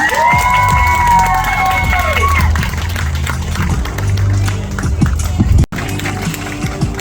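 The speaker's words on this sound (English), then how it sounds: "let's give another round of applause for Ria Pa." A large pageant audience cheers and applauds loudly throughout, with shouts, whistles and dense clapping forming a continuous roar that dips briefly near the end.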